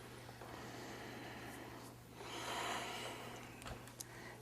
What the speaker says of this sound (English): And take about 3 breaths there.